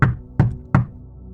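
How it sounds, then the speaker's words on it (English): Knocking on a motel room door: three firm, evenly spaced raps, close and clear, followed by silence. "I was drying off when I heard a knock on the door."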